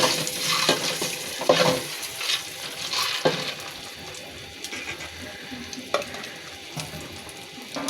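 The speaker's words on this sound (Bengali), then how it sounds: "ডিমগুলো ভাজা হয়ে গিয়েছে" Two eggs fry in a pan, a close crackling sizzle broken by bursts of spatula stirring and scraping that rise and fall irregularly.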